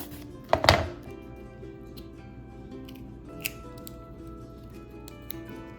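Knife cutting open a longan fruit: one crisp, close crunching slice near the start, then quiet room tone with a couple of small faint ticks.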